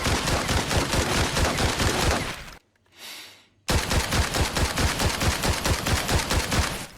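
An automatic USAS shotgun fires from the hip in Arena Breakout: Infinite. Loud, rapid, evenly spaced shots break off for about a second, then a second fast burst follows. The shots are close and there is no talk.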